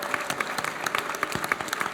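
A crowd claps steadily for a couple of seconds at a Polytechnique Montréal 150th anniversary ceremony, with dense, even applause filling the room.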